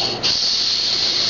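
A young girl imitates a snake with one long, steady hiss, breathy and close, held for over a second after a brief dip at the start.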